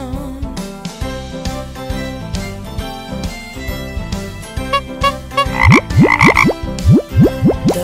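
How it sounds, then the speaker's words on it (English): Frogs croak over a bouncy children's song about the wheels on the bus, giving a run of loud rhythmic croaks that grows stronger and denser toward the end, set against music. "The frogs on the bus go croak, croak, croak"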